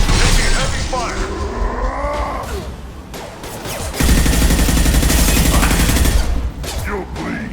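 Heavy gunfire in the video game Mass Effect 2, loud sustained bursts and rattling fire close up, mixed with voices and combat effects.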